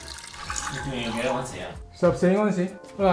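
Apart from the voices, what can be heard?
can of chicken broth poured into a large pot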